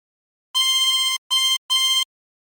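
Harmonica playing a short Waltzing Matilda phrase: three clean, bright reedy notes, a longer first note followed by two shorter ones, played close and alone in silence.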